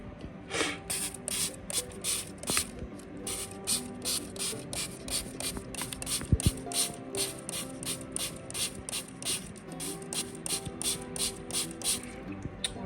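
A handheld spray bottle spritzes compost and leaves in an indoor bokashi bin, giving a long run of quick, regular trigger pumps, each a short hiss, close and fairly quiet.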